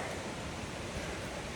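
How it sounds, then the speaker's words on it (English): Lots of water flows near a board crossing on an Appalachian Trail stretch in Maine, a steady rushing wash that fills the clip with no talk. "This is a lot of water right here."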